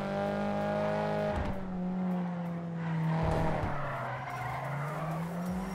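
A car in the video game GTA 5 drives and slides, tires squealing in long loud screeches over a steady engine drone, with one sharp break partway through.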